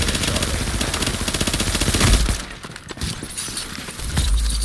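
Sustained automatic weapon fire in The Division's PvP mode, loud and dense with continuous rattling shots, easing briefly in the middle before heavy firing resumes.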